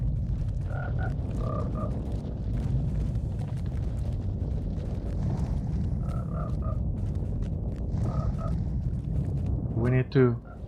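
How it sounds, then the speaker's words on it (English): Toads croak in short repeated bursts in the Lord of the Rings Online game, several calls spaced across the clip amid a low rumbling background, ending with a louder, sharper cry. "Ah, more toads, really?"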